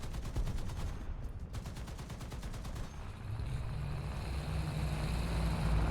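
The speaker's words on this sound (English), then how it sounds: "Feels so weird shooting a 50 cal." A .50 cal machine gun firing in War Thunder from an American T77E1 anti-aircraft vehicle, a fast rhythmic burst in the opening seconds that fades into rumbling engine and ambient battle noise.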